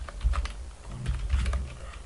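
Rapid typing on a computer keyboard, a dense run of close, soft key clicks with slight thumps from the keys bottoming out, steady and uninterrupted.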